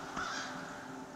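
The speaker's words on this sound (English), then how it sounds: "The crows are saying hello." Crows in a park at Algonquin Park in October give a short, harsh caw, fairly close and clear over a soft outdoor background.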